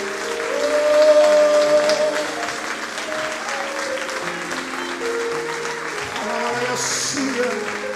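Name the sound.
audience applauding loudly in church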